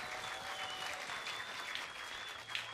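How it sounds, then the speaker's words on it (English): Spectators applauding at the women's junior skeet final of the European Shooting Championships, a faint, distant, even wash of clapping with a steady tone running through it. "Come on, audience, give me applause."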